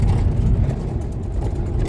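Road traffic on a rural road heading toward town gives a continuous low rumble and hum of passing vehicles, fairly close and steady throughout.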